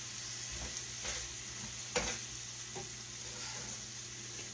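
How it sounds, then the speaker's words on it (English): Casserole ingredients are stirred around in a pan, giving a faint, steady sizzle under occasional scraping and clinking strokes of a spoon, one slightly louder knock near the middle. "we're just going to stir that around in here"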